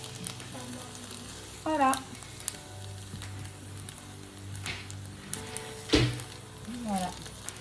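Tofu frying in a pan, with a steady close sizzle running under intermittent speech and a few sharp scraping clatters from a utensil loosening pieces stuck to the pan.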